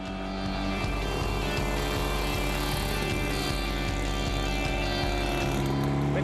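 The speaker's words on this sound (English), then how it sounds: "The engine makes a distinctive chatter. It's actually a two-stroke motor with 600 cc's of displacement." Two-stroke 600 cc DKW Super Sport motorcycle engine from the early 1930s running steadily nearby, a continuous loud mechanical chatter with rapid rhythmic pulsing and no pauses.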